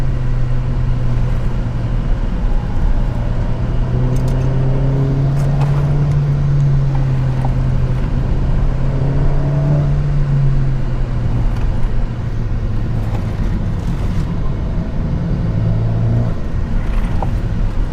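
A Honda Civic Type R engine drones steadily from inside the cabin while accelerating hard through corners, a loud continuous low hum with rising and falling engine tones and occasional faint knocks.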